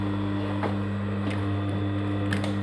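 A sewing machine stitches a one-centimetre seam on denim jeans, giving a steady mechanical hum with a few faint clicks over the top, close and even throughout.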